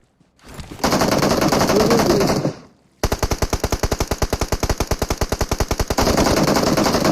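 PUBG Mobile gunfire, likely an M4 rifle: a sustained burst, a brief pause, then a long run of rapid evenly spaced shots ending in another dense burst, loud and close with no voices over it.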